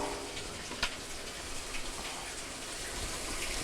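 Water gushes steadily into a Kenmore washer tub during a fill cycle on a machine that overflows, a continuous faint hissing rush with small splashes.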